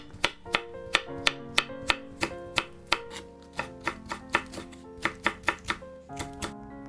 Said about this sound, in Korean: 청양고추와 홍고추는 송송 썰어주세요.